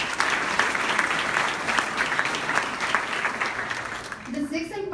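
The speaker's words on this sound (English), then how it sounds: "Please help me in giving another round of applause to Ms." An audience at a scholarship gala applauds a Teacher of the Year honoree, a sustained round of many hands clapping that tapers near the end as a voice begins speaking over it.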